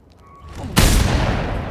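A single loud gunshot from the Mad Max video game, a sharp blast that cuts in after a quiet moment and rings out with a sustained, noisy tail.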